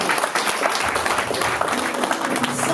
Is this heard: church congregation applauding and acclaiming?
yes